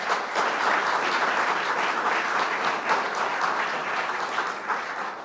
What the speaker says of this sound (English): another round of applause for Commissioner Shah